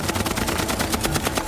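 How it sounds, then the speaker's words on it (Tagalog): A dense, rapid burst of gunfire from powerful weapons, shots rattling in a steady fast rhythm like a machine gun, continuous and fairly loud throughout with no voices. "Ang isang putok ay naging sunod-sunod na pagbaril at ang lugar ay nagmistulang war zone."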